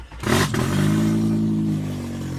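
A race car engine cranks and catches with a sharp burst, then settles into a loud, rough, rumbling idle close by, with no talking.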